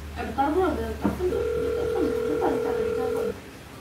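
A telephone rings with a steady electronic tone of about two seconds. It sounds over background chatter from a game session and overlaps people talking nearby.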